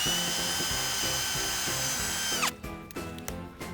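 A power drill bores a 1.5-inch hole into a maple tree to tap sap, its steady high whine running loud and close for a couple of seconds before winding down into sputtering, uneven spurts.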